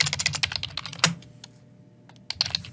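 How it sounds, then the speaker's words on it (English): Rapid clatter of computer keyboard typing, dense keystrokes for about a second, then a brief pause with a few isolated taps before a fresh burst of typing resumes, close and moderately loud. "I can't type very well."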